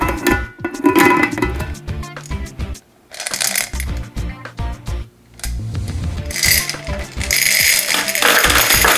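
A plastic gumball machine full of gumballs is unscrewed, giving a run of close ratcheting clicks and rattling candy, with a couple of short pauses and no talking.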